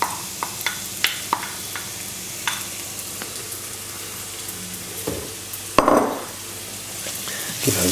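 Chopped onions hit warming oil in a pan for Thai cooking, giving a steady close sizzle broken by scraping stirs and a few sharp clinks of the utensil against the pan. No one speaks.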